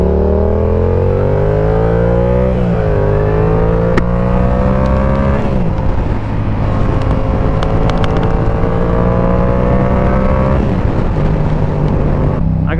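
A 2022 Yamaha R7 sport bike fitted with a Yoshimura exhaust is ridden on a track, its engine revving loud and close with rising pitch sweeps through gear changes, and wind roar sits underneath.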